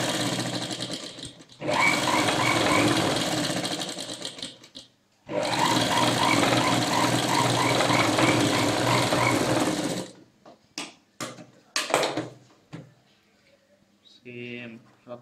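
Sewing machine stitching a blouse in two long, loud, steady runs of rapid whirring separated by a short pause, followed by scattered clicks and brief handling sounds.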